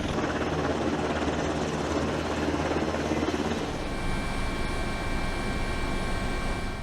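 Helicopter flying, with a steady, loud rotor and engine drone that carries on unbroken throughout, its beat changing partway through as the craft moves.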